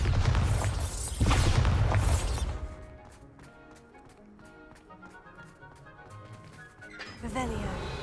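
A Bombarda blast spell in Hogwarts Legacy, a loud booming burst with crashing debris over the first couple of seconds, fading into quieter ringing game sounds before another swelling surge near the end.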